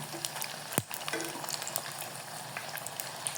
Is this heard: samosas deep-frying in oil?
yes